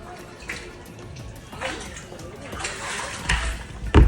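Water from a tank runs into a bucket at night near Sundha Mata temple, a rushing, splashing flow that grows louder over a few seconds, with people talking in the background.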